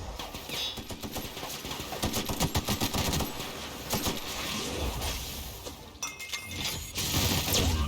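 Gunfire in The Outer Worlds as shots punch through a box: rapid, sharp cracks in dense bursts with clattering impacts, loud and close, continuing over roughly eight seconds.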